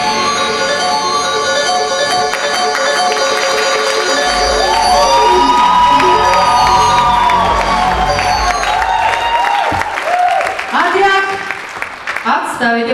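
An audience applauds at a formal ceremony, dense clapping and crowd noise swelling in a hall alongside sustained musical tones, then thinning out near the end.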